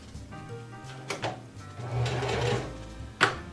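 A domestic sewing machine runs a zigzag stitch on dress fabric in short bursts: a mechanical whir with faint rhythmic ticking, broken by a few sharp clicks, close up and without talk.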